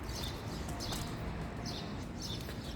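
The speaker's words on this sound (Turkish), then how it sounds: "İlk İlkbaharın gelmesiyle kuş sesleri bahçeyi kapladı arkadaşlar." Birds chirp in a garden in early spring, short bright calls repeating at irregular intervals, faint and somewhat distant over a low background hum.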